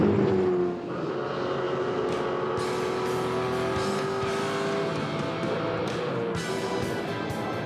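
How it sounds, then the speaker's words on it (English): V8 Supercars race at Phillip Island in 2006, with loud engines roaring continuously as cars pass close by, and a falling engine tone as one car goes past. "But Tander's at speed and will blow by Scaife"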